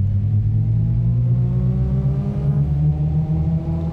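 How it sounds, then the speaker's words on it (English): A Toyota Vitz engine in Gran Turismo 5 drones steadily and loudly, rising in pitch as it accelerates, with a whirring mechanical tone throughout and no voices. "the engine noise though"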